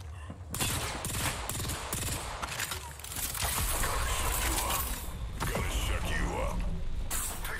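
Dense, rapid gunfire in a battle royale video game match, with bursts of automatic shots crackling loudly and continuously over other game noise while a player talks.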